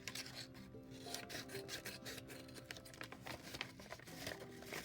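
Scissors trim the bottom edge of a small handmade six-page paper book, giving a steady rasping, crinkling run of close cuts and paper rubbing that continues without a pause and with no talk.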